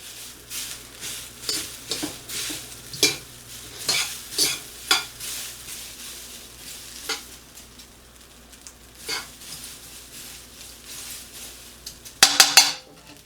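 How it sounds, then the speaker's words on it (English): Shrimp fried rice, about 4 to 6 cups of rice, being stirred and heated through in a pan, with a steady low sizzle under repeated scraping and clinking strokes of a utensil against the pan, ending in a brief louder clatter. "Now we're just going to heat this rice through."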